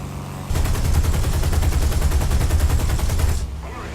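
Rapid, sustained machine gun fire from a P-38 Lightning fighter in the air combat game War Thunder, a loud continuous rattling burst of about three seconds over steady engine drone.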